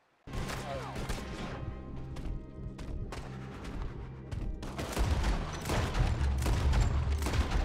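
Gunfire in Red Dead Redemption 2 erupts suddenly after a brief silence, with rapid overlapping shots and heavy thuds in a loud, sustained burst that swells louder toward the end.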